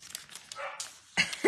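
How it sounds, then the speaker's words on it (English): Several dogs bark and yip excitedly in quick, uneven bursts close by, with a louder flurry near the end. "Can you hear my dogs going ape?"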